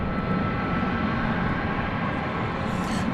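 An American Airlines Boeing 737-800 jet takes off at night from DFW Airport, its engines producing a loud, continuous roar that stays strong and steady from start to finish.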